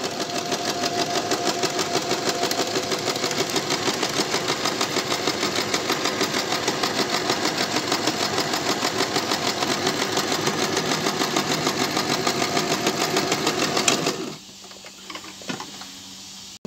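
A sewing machine stitches through pants fabric while bloomer shorts are being sewn, giving a rapid, even mechanical rattle that runs steadily and up close for about fourteen seconds before it stops abruptly, leaving faint handling noises.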